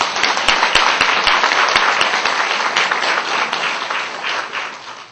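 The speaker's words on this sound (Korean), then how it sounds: "건강하시라고 박수 한번 쳐주세요." A church congregation applauding during a Sunday morning worship service, loud and close with sharp individual claps at first, then thinning into steady clapping that fades toward the end.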